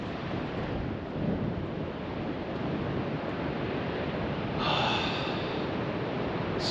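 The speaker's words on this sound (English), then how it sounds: "Swell is pumping today" Big ocean swell crashes and rolls continuously along the coast, a dense, loud wash of surf with a slightly brighter breaking wave near the end.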